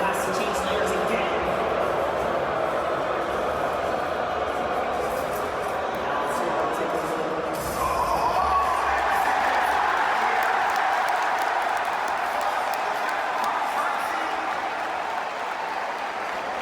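A large arena crowd at the Fortnite World Cup roars continuously in loud disapproval, a dense sustained wall of booing that swells midway and keeps going.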